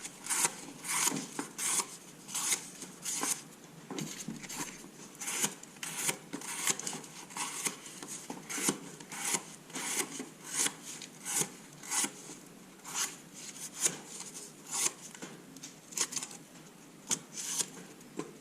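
An Opinel knife with a polished 30,000 grit edge slicing through cardboard, a long series of close, crisp rasping cuts repeating in an uneven rhythm with no talk.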